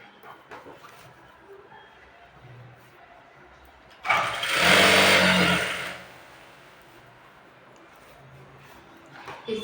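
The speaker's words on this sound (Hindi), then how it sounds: "यहाँ पे 1 इंच कपड़ा फोल्ड करेंगे और सीधा सिलाई लगाएंगे" A sewing machine runs a straight stitching seam along a one-inch fold of salwar fabric, a loud steady mechanical whir lasting about two seconds that starts and stops abruptly amid quiet room noise.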